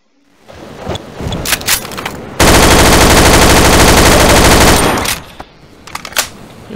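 Rapid automatic gunfire in Garry's Mod blasts at an object until it breaks, one loud sustained burst of about two and a half seconds framed by quieter game noises before and after.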